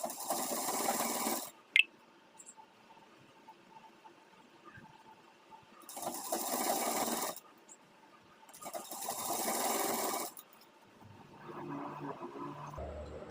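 A sewing machine stitches a salwar belt in three separate bursts of fast, close whirring, with quiet pauses and faint handling clicks between runs.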